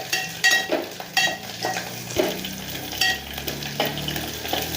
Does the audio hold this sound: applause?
no